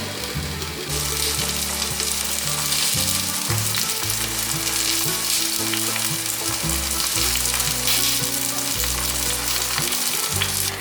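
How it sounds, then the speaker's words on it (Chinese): Stuffed eggplant rings with a mushroom filling fry slowly in a pan, giving a steady, close sizzle that carries on without a break. A looping tonal melody plays underneath. "把馅料放到茄子圈里面之后，让茄子慢慢的煎"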